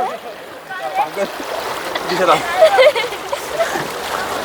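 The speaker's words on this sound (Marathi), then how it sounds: "तिथे मस्त पाणी वाहत जातंय ना" Stream water flowing at Barvi Dam near Badlapur, a steady close rush and splash with soft trickling, heard beneath people talking nearby.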